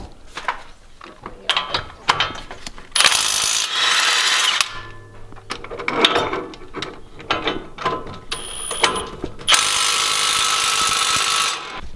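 A ratchet and power tool work the 19 mm brake caliper bracket bolts on a Nissan Pathfinder during a brake job: rapid ratcheting clicks alternate with long loud bursts of an air or power wrench, close up, no speech.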